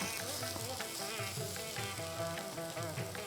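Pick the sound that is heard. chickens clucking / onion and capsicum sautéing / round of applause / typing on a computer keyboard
onion and capsicum sautéing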